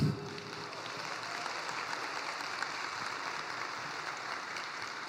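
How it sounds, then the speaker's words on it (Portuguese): Steady, dense applause from a seated audience at a Brazilian motivational talk, a continuous even wash of many hands clapping that holds at moderate level throughout, with no speech over it. "eu queria pedir uma salva de palmas para Deus."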